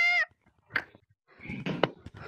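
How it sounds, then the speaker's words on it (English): A white cat meows in a video game, one short clear meow at the start, followed by scattered quieter game sounds and brief noises. "It's the white cat."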